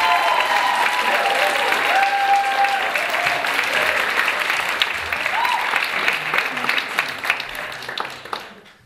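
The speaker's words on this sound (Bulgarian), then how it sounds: "Аплодисменти за Витали." Diploma concert audience applauds a performer with sustained, dense clapping that fills the room, staying loud before gradually thinning toward the end, with faint crowd murmur underneath.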